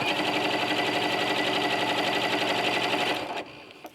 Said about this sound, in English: I'm going to start by just quilting lines all the way through it to really secure it.